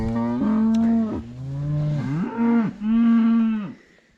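Cattle on a farm moo in three long, loud, drawn-out calls close by, each lowing note swelling and then falling away, with short pauses between them.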